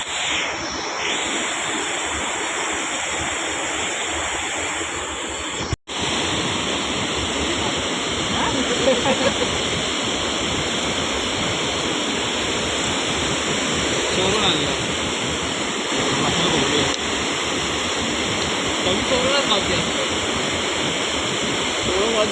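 Floodwater in a swollen river after heavy rain, a loud continuous roaring rush that fills the whole stretch, with a short cut early on and faint voices beneath.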